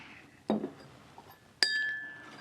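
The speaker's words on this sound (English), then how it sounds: "you can put these stalks into a glass or even a mug" A glass is handled while mint stalks are placed into it, giving a dull knock followed by a bright, ringing clink that fades out in a quiet room.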